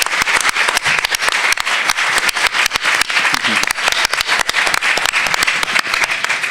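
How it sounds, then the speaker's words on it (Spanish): An auditorium audience applauds steadily at a tribute event, dense clapping close and loud, with scattered sharp individual claps standing out throughout. "Aplausos, por favor."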